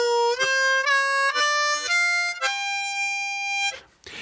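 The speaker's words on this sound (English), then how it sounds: "most blues players use the blues scale in second position as like their primary scale." A harmonica plays a slow second-position blues scale in single notes, each held briefly with small slides between them, ending on a long sustained tone followed by a breath.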